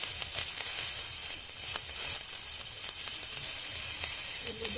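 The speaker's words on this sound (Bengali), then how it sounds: "তো প্রথমে আমি কড়ার মধ্যে 5 ফোড়ন দিয়ে দিচ্ছি, কুচনো কাঁচা লঙ্কা দিয়ে দিচ্ছি" Five-spice seeds and chopped green chili sizzling in a wok, a steady bright frying hiss with faint crackles, close and continuous.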